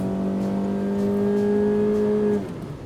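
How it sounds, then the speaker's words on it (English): A 25-year-old Honda's engine revs in pouring rain, holding a loud, steady high drone, then drops off sharply just before the end, leaving a quieter background rumble. "I like how willing this engine is to rev"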